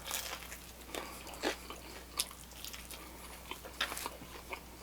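Close, crisp crunching bites into a Papa John's Doritos Papadia dipped in Doritos dip, with sharp irregular crunches spread across several seconds and a steady low hum underneath.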